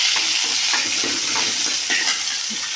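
Onion, garlic and green chillies sizzle loudly in a hot pan, with a constant close frying hiss broken by rhythmic scraping stir strokes, no talk.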